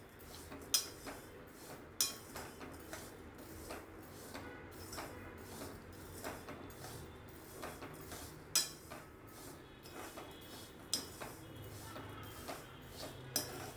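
A lentil and rice mixture dry-roasting in a pan is stirred steadily, giving soft irregular scrapes and light metallic clinks against a quiet background hiss.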